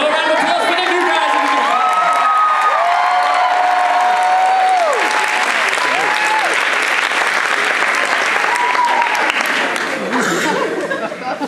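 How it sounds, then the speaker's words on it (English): A crowd gives loud, sustained applause and cheers for new members of the Ithacappella a cappella group at a 2014 event, with whistles, shouts and overlapping voices running throughout. "So a round of applause for the new guys."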